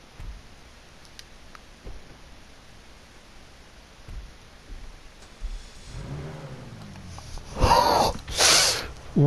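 A Grotti Itali RSX hypercar in GTA Online revs its engine. After several seconds of near silence, a rising engine note swells, then sharp loud bursts of revving follow near the end.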